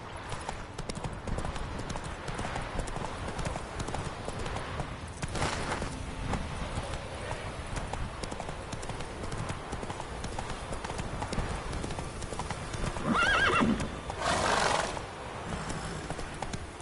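Roach, Geralt's horse in The Witcher 3 on PS5, pounds along in a steady galloping clip-clop of hooves that carries through the whole stretch, with a brief whinny-like burst and some game ambience near the end.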